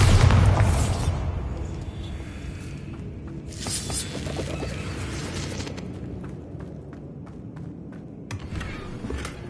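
A Bombarda spell explosion in a video game, a loud booming blast at the start that trails off, followed by scattered crackling pops and debris.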